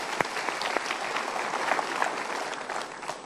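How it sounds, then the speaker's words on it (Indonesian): Studio audience applauding on a talk show, dense steady clapping from a crowd that fills the room at even strength from start to finish, with no voices over it. "Kita berikan tepuk tangan dulu."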